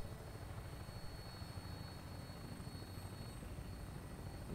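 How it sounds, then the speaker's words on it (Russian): A vertibird aircraft flies in Fallout 4, its rotor wash a steady, dense drone that holds at an even loudness throughout, with no voices over it. "Но смотреть, как летает этот криворукий Том, я думаю, надоело уже всем."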